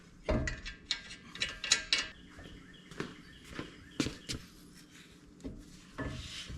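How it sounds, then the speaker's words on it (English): Lug nut being threaded back onto a wheel stud to hold a car brake rotor in place, a series of close metallic clicks, clanks and ratcheting knocks spaced irregularly, with quiet gaps between. "I'm gonna put a lug nut back on to hold that rotor up straight"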